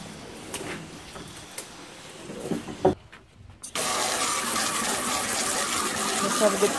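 Water from a Gilmour heavy duty sprayer nozzle hits nearly dead ferns at a distance outdoors. It starts as a broad steady hiss and, after a brief gap, returns as a loud sustained rush of spray.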